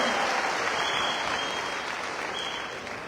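Steady audience applause at a business seminar fills the whole moment, a dense even clapping from a crowd that slowly softens toward the end.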